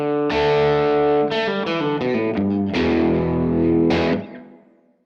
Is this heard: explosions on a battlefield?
no